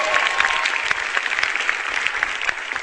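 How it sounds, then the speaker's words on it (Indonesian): Audience applause fills a stand-up comedy show, a dense, steady wash of many hands clapping close and loud throughout, with no voices over it. "Tepuk tangan dulu dong"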